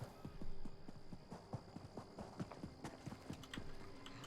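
Horse hooves clip-clop in a steady, even rhythm as a mount trots along in The Elder Scrolls Online, the hoofbeats clear and moderately close over a faint steady background tone.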